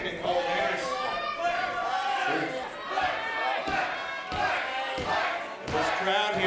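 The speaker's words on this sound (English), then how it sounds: "This crowd here, the Islanders getting firmly behind Malcolm Phlex." Wrestling crowd at an Islanders independent show, cheering and roaring continuously in a dense, loud wash of voices, with occasional sharp thuds from the ring, under the commentator's talk throughout.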